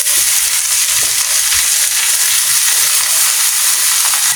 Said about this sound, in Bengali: এখন লাল না হওয়া পর্যন্ত আমি এটা ভাজতে থাকবো।